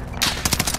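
Gunfire in a battle royale video game: a loud, rapid burst of automatic shots fired in quick succession, close and sharp, filling the whole brief moment.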